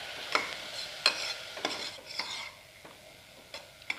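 Kashmiri red chilli powder and turmeric masala are stirred in a pan: a few quiet scraping strokes of a spoon against the pan over a faint low sizzle, spaced irregularly, no talking.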